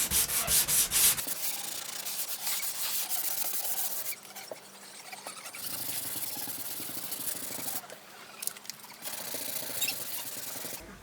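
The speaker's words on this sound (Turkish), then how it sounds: "daha rahat zımpara işlemi yapabilirsiniz." Steady sandpaper scraping over a car door, a continuous rough rubbing that pauses briefly and resumes in long strokes, close and fairly loud.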